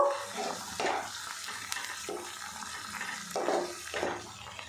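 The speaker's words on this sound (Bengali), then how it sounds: "পালং শাকের পেস্ট দিয়েছি, একটু নাড়াচাড়া করে নেব।" Spinach paste is stirred into fried onion and garlic, giving a soft wet sizzle with repeated scraping strokes of a spoon every second or so, close and fairly quiet, with no talking.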